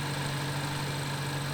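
A 2016 BMW M235i with about 42,000 miles idling smoothly, a steady, even low hum with no speech.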